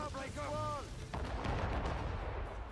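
Ship cannons boom in a naval battle in Assassin's Creed Rogue, one heavy blast landing after a short run of whistling tones, with rumbling battle noise filling the rest.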